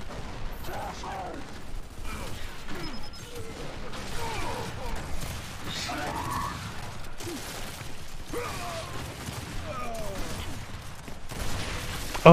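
Gunfire in Gears 5 on Xbox Series S, a few sharp shots mixed with mechanical clanks and ratcheting weapon sounds, steady game action throughout with no clear pauses.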